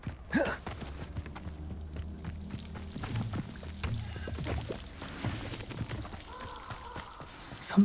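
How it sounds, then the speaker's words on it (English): A waterfall in the Hogwarts Legacy video game, heard as a continuous pouring, splashing wash of water with soft footsteps and scattered small knocks over it, steady at moderate volume. "The waterfall."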